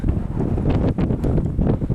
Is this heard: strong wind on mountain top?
yes